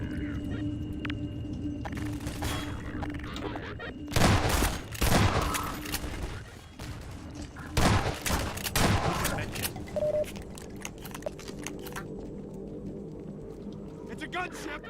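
A combat helicopter gunship attacks in Half-Life 2, with bursts of rapid gunfire and heavy booms in clusters over a steady engine drone, and someone talking intermittently over the action.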